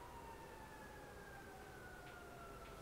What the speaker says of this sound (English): Oh, there's a siren. Can you hear the siren?